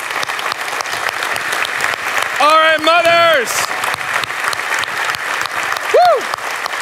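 An audience stands and applauds mothers, a broad wash of clapping that runs throughout. Someone speaks over it and a cheer rises briefly near the end.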